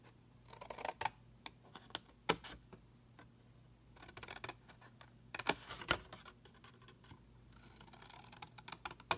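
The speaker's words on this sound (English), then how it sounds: "Cut a small notch there." Scissors cutting a small notch into a paper box template, a few sharp close snips and clicks scattered among quiet handling rustles.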